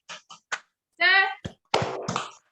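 Schoolchildren in a classroom doing a clapping class chant: three quick claps, then loud shouted voices chanting together in bursts, close and lively.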